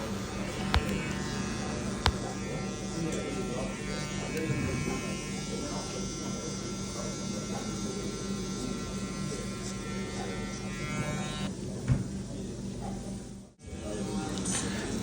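Electric hair clippers buzz steadily and close up through a drop fade haircut in a barbershop, set to a number 1.5 guard with the lever open, with a voice talking over the hum and a brief dropout near the end.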